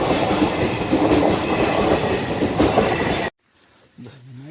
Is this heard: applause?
no